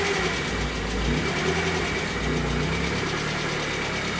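A rare 1980s BMW M Sport homologation car, a barn find parked for years, idles steadily with a smooth, continuous engine rumble close by and no talk.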